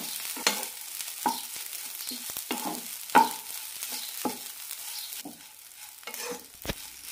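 A spoon stirs tapioca and cracked wheat upma in a hot pan, breaking up lumps. Irregular scraping knocks and taps sound up close over a faint, soft sizzle.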